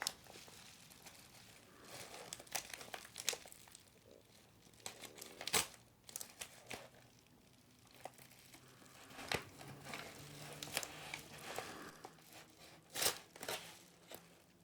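Close, quiet crinkling and tearing of bike-parts packaging, with irregular sharp rips and rustles spread over several seconds.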